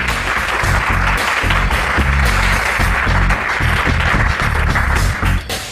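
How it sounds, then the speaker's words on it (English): A studio audience on a TV game show applauds warmly and steadily for two contestants, dense loud clapping that continues without a break for several seconds. "Nice warm applause for them"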